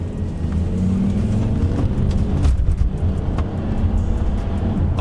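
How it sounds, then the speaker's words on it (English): A high-mileage VW Touareg V10 with an oil leak, four-wheel drive, driving on the road, its engine a steady loud drone with a brief surge of acceleration heard from inside the cabin. "So let's hit the roads and see how well it drives."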